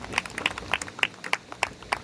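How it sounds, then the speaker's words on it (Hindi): A small group at an alumni gathering claps in unison, a steady rhythmic series of sharp hand claps at roughly three per second, close and moderately loud, with no voices over it. "ताली बजा दो"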